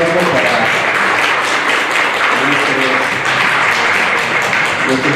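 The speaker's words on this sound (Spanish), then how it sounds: "Un aplauso para" Loud, dense applause for invited panelists at a history forum in Tlajomulco, Mexico, many hands clapping close and steady throughout with a faint murmur of voices beneath.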